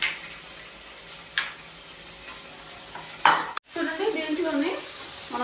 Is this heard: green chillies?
yes